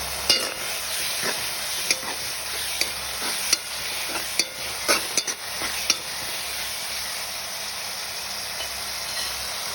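Curry leaves crackle and sizzle in hot oil for a potato curry, a constant bright hiss with scattered sharp pops and a few stirring clicks, close and without talk.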